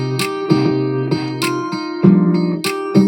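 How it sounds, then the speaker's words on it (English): A distorted, sustained guitar riff repeats in a looping pattern, loud and close, with sharp picked attacks over held notes. "Ooh, this one's guitar 2."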